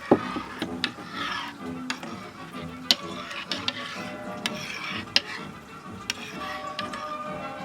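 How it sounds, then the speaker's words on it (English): A spoon stirs a West African soup with water and curry powder in a pot with steady scraping, punctuated by regular sharp taps and clinks against the sides. A faint sizzle sits underneath. "And we're going to stir it together."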